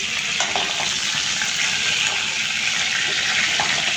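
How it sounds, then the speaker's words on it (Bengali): Chicken pieces fry in hot oil for a home-style chicken roast, a dense continuous sizzle and crackle that stays loud and close throughout, with no talking. "বাকি চিকেনগুলো আমি এই তেলে ভাজি করে নেব"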